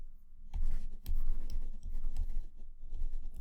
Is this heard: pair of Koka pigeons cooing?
no